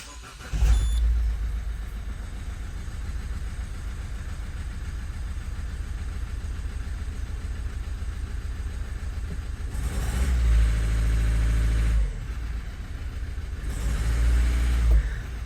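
A car engine starts with a sharp burst, then runs steadily at idle throughout, with two louder rises toward the end as it is revved briefly and settles back.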